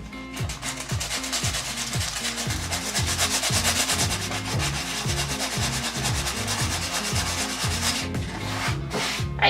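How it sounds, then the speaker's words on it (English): Sandpaper rubbed in steady back-and-forth strokes over a gesso-coated canvas, a loud rhythmic scratchy rasp that continues for the whole stretch with no talking. "see if I can just kind of sand some of that down"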